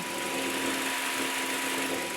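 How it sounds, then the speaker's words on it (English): Radiator fan on a Vauxhall Meriva B with the A14XER engine, running constantly while the engine is cold: a steady, close whirring hum with a fixed tone and no change in speed, heard alone. "the fan will spin constantly"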